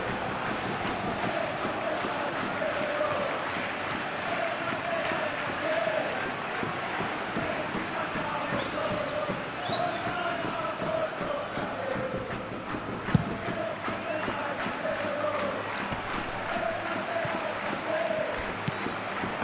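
Stadium crowd in the eFootball PES 2021 video game during a Real Madrid vs Real Sociedad match, a steady dense roar of chanting and murmuring that holds at an even level throughout, with faint commentary underneath.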